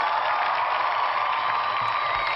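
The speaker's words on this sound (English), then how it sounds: "Clap it up again." An audience claps together in a dense, steady wash of applause that holds at an even level from start to finish, with no pauses or single claps standing out.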